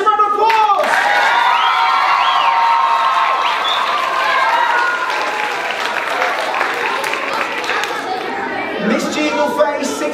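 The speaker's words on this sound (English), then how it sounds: "please give your contestant, Miss G, a massive round of applause!" A primary school audience gives a contestant a loud, sustained round of applause with cheering and excited children's chatter throughout, during a teacher quiz game held at the school.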